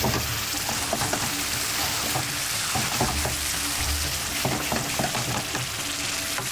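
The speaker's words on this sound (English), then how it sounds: "And now just place the green chilies on top. Mix them into." Green chilies are stirred into a sizzling pan of hot oil, a steady loud frying hiss with scraping stirring strokes throughout, close and without talk.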